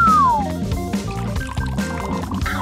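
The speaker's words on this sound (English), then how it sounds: "I'll set it in a huge bowl and pour hot water around it" Hot water pours into a large bowl with a continuous liquid gurgle and trickle, close and moderately loud, with faint background music beneath.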